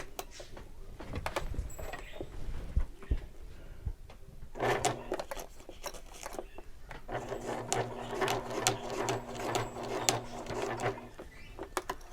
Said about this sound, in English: And I'm going to be stitching about 1/8 of an inch from the edge.